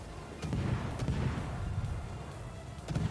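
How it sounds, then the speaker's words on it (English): Naval guns firing on an enemy ship in World of Warships, heard from a Tier VIII European destroyer, HSwMS Öland: a few muffled booms spaced over a steady rumbling background. "We're just gonna sit right here and shell this guy."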